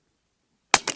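A Western Airguns Rattler .30 semi-auto big bore airgun fires 80 grain slugs, a sharp loud crack followed a moment later by a second, softer report.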